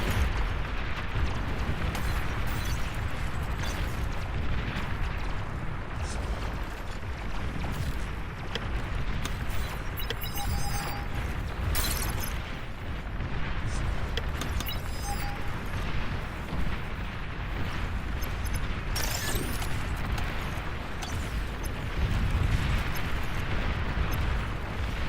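Dense, continuous rumbling of explosions and booming battle noise as commander units are destroyed in the real-time strategy game Beyond All Reason, layered bursts with no quiet gaps throughout.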